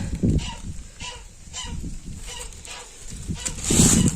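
Chickens in a garden, loud close clucking and honking calls in short bursts, with someone talking intermittently.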